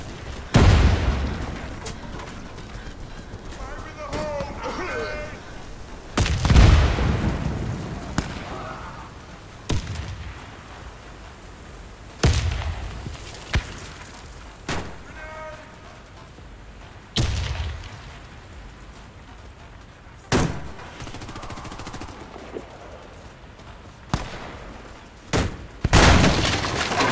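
Explosives detonate in a video game, a string of loud, heavy booms and blasts every few seconds, each followed by a short rumbling tail.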